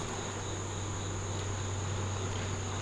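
Bees in a beehive infested with hive beetles, a steady close hum with a constant tonal drone and no pauses or voices.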